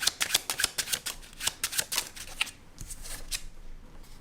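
Tarot cards being shuffled by hand, a quick run of crisp riffling flutters in bursts, then softer slides and taps near the end, close and alone with no talk.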